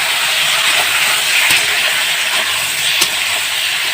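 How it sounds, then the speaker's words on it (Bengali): Boiled potatoes hit hot oil in a pan for soybean curry, giving a loud, steady, close-up sizzling hiss with a couple of faint clicks and no talking. "সেই আলুটা আমি তেলের উপরে দিয়ে দেবো। এরপর আমি আলুটা নেড়ে চেড়ে নেব।"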